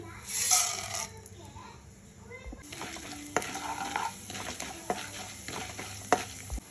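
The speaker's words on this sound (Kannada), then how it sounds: "ಒಗ್ಗರಣೆಗೆ ಹಾಕ್ಕೊಳ್ಳೋಣ ಎಣ್ಣೆ ಇದ್ದೀನಿ ಆಮೇಲೆ ಸಾಸಿವೆ ಜೀರಿಗೆ ಕಡಲೆಬೇಳೆ ಉದ್ದಿನಬೇಳೆ ಇಷ್ಟನ್ನು ನಾನು ಹಾಕ್ತಾಯಿದ್ದೀನಿ" Mustard seeds, cumin, chana dal and urad dal tempering in hot oil, crackling and sizzling steadily, with sharp pops and stirring clatter from the pan breaking through the fry.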